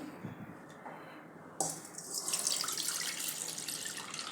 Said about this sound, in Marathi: आणि हे पाणी एका भांड्यात काढून घेते